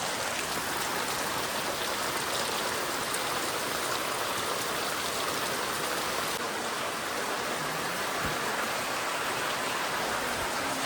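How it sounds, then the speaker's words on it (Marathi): Heavy rain falls on a village, a loud, unbroken roaring hiss that stays constant throughout with no voices. "पाऊस आलाय जोरदार"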